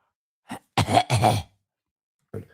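A single short throat sound followed by two harsh, raspy coughs close by, then a brief faint cough after a pause.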